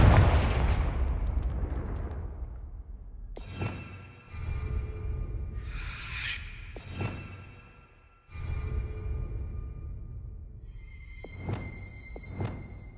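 Confringo explosion spell cast in the video game Hogwarts Legacy: a loud blast opens and slowly decays, followed by several further sharp magical bursts and crackles spaced apart, with no talking.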